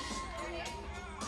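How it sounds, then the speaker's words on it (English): A crowd at a women's college basketball game cheers on a player shooting a three-pointer. The roar is loud, dense and continuous, with voices blended throughout. "Let's cheer Kelsey on."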